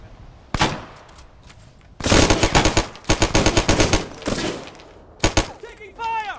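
Bursts of automatic gunfire from a military video game ring out loud and close, with a short volley, a long sustained stretch of rapid shots, then more clustered bursts.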